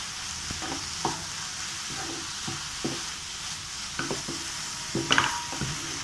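Masala with turmeric and Kashmiri chilli powder stirred in a hot pan for masala bread toast: a constant sizzle under regular scraping spatula strokes, close and moderately loud.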